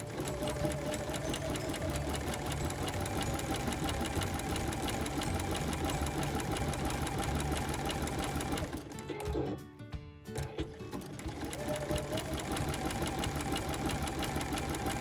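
A sewing machine stitches applique fabric in a steady, close, continuous run, pausing briefly near the end before the stitching resumes.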